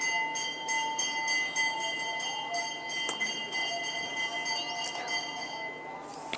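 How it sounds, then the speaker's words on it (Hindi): A small bell rings with steady, high, sustained tones that stay fairly loud throughout, marked by a few sharp strikes, over a faint background of room noise. "घंटी भी बज गई"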